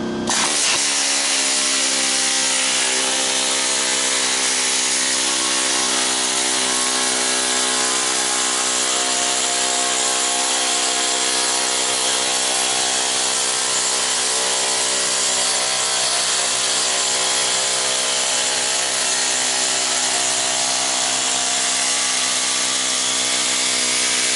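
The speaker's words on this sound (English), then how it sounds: "showing the air chisel because the air chisel is a good tool for scrapping." Air chisel scrapping a clothes dryer, a loud, continuous high-pitched pneumatic rattle and metallic buzz that runs unbroken for a long stretch, close and alone.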